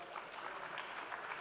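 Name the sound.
audience applause for panelist speakers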